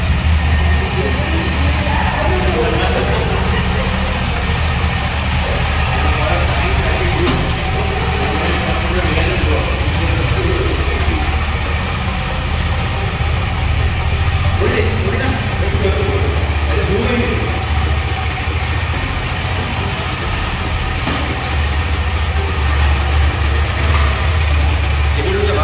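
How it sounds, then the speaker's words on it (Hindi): A 2022 KTM Adventure 390 motorcycle idles outside a showroom, a steady low engine rumble running the whole time beneath nearby people talking. "तो फाइनली गाड़ी के एक्चुअल ओनर गाड़ी निकल रहे शोरूम के बाहर।"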